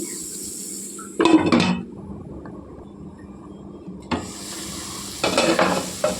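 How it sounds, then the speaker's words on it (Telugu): Chicken pieces being stirred and fried in a pan for a Telugu-style chicken fry, bursts of scraping, sizzling stirring separated by a quieter low simmer, close and fairly loud, no speech. "కలుపుకుంటూ వేపుకోవాలండి కొద్దిగా."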